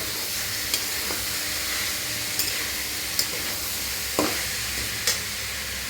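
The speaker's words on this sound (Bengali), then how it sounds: "জাস্ট 2 থেকে 3 মিনিট সটে করে নেবো, কারণ এগুলো একটু ক্রিস্পি ভালো লাগে।" Mushrooms sautéing in a pan for a crispy grilled cheese sandwich filling give a steady close sizzle, with a few sharp scrapes and clicks of stirring spaced through it and no voices.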